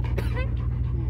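A wet puppy, still dripping after a bath, pants in quick, close breaths while perched on the center console inside a 2002 Dodge Ram 1500 cab, over a steady low engine hum.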